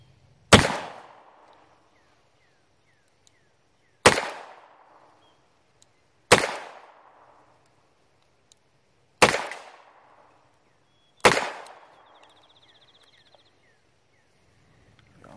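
Five sharp revolver shots ring out, fired double action with wadcutter ammunition. Each loud crack is followed by a short decaying echo, and the shots come at irregular intervals a few seconds apart with quiet gaps between them.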